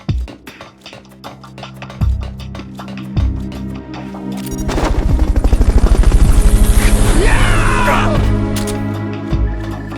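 The Fulton recovery helicopter in the video game Metal Gear Solid Peace Walker roars in, its loud rotor noise swelling over a few seconds and then easing off, with scattered clanks and thuds before and after.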